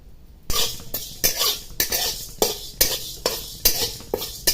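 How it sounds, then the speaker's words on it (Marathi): Toor dal roasting in a pan, stirred with a metal spoon that scrapes and clinks against the pan in a steady rhythm of about eight strokes, close and clear with no talk. "आता मी तुरीची डाळ घालून घेते भाजण्यासाठी"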